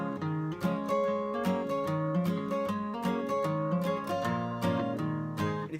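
An acoustic guitar plays the intro to a song in a steady pattern that alternates a single bass note with a strummed chord, clear and close with no talking.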